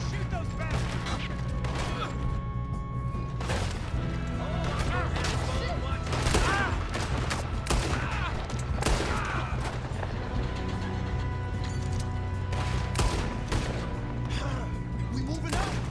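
Gunfight in Red Dead Redemption 2 during a robbery, with dense, repeated gunshots cracking near and far over a rumbling background and occasional shouted voices.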